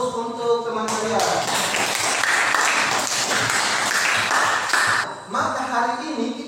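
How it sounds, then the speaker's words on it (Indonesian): A classroom of students applauds a classmate, a dense burst of clapping lasting several seconds and fading out, with voices talking at the start and end. "Berikan aplaus untuk teman saya."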